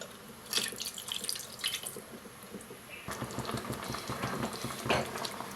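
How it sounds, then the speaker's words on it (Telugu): A glass of water poured into a pan of simmering murrel fish curry, a close, continuous splashing pour with small bubbling and dripping sounds, fairly quiet and free of talk. "ఇప్పుడు దీనిలో సరిపోయినన్ని వాటర్ వేసుకుందాం"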